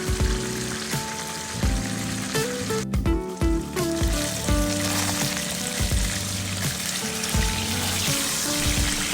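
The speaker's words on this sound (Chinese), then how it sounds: "用中小火煎，大概煎1分钟，再反另外一边" Fish for a sweet and sour pineapple dish fries in a pan over medium-low heat, giving a steady, continuous sizzle that runs throughout with music playing over it.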